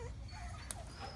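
A dog whimpers while a prong collar is fitted to her. The faint, thin whines sit under steady background noise, with a brief sharp tick in the middle.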